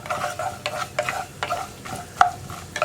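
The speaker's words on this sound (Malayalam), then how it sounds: "ആദ്യം തേങ്ങക്കൊത്തൊന്ന് ഫ്രൈ ചെയ്തെടുക്കുക." Coconut pieces frying in a pan for payasam, with repeated light stirring scrapes and soft crackles over a faint sizzle, fairly quiet and close.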